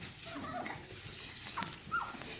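Dogs move about on a wooden deck outside a window, giving soft whimpers and small yips at a moderate distance over a quiet room background.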